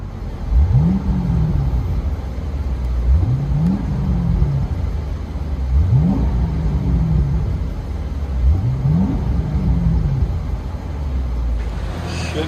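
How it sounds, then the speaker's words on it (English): A 2015 Chevy Camaro SS with a 6.2L V8 and Flowmaster Outlaw dual exhaust, heard from inside the cabin: a deep steady rumble with four repeated revs rising and falling roughly every two and a half seconds, loud and close. "Let you guys hear it on the inside."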